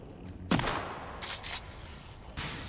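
Gunfire in the survival game Sons of the Forest: a few sharp cracks, the first loudest, then a quick double burst and another shot near the end, over quiet background noise.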